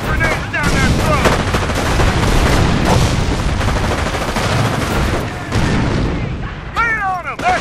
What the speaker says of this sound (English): Heavy enemy fire on our position!